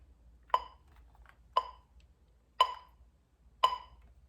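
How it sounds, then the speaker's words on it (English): Four sharp metallic metronome ticks at an even, steady pace about one second apart, crisp and close, with near silence between them. "So this is just my metronome."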